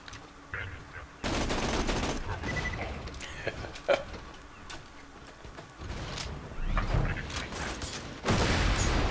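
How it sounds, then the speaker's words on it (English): Gunfire from Earnest Logan's Gun in Borderlands 2, loud bursts of rapid shots in several separate volleys with game action sounds between them. "That's a great situation to use the Earnest Logan's gun."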